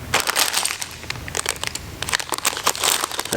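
A plastic bag full of brick model pieces for a MAC Tools truck set crinkles and crunches up close, with uneven bursts of rustling and sharp crackles as it is handled.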